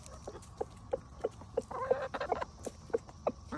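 Backyard chickens and a rooster cluck in short, repeated bursts, close by and fairly soft, as they eat cicadas.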